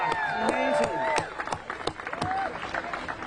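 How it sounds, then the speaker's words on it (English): A crowd at a voting rights rally at the U.S. Capitol applauds and cheers, dense clapping mixed with raised voices and whoops, loud at first and then thinning slightly. "how about another round of applause for Raphael Warnock"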